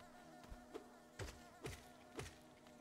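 Bees buzzing in Hollow Knight, a few faint insect drones that swell in three or four short bursts over a low steady background, alone with no talk.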